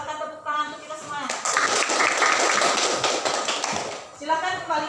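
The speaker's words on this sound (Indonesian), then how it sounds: "Silakan tepuk tangan untuk kita semua." Classroom of students clapping together after group discussion, a dense burst of applause rising sharply, sustained for a few seconds then fading, with a teacher's voice speaking before and after.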